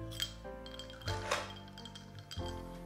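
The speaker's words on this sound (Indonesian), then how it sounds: "Kita pakai es batu." Ice cubes clink against a glass of iced milk coffee in a few bright, close taps and rattles, spread unevenly over a steady background of hum and room noise.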